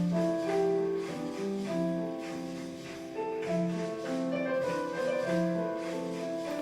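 Mellow Japanese underground hip-hop plays softly, with warm looping melodic chords over a laid-back beat, steady and fairly quiet with no voices.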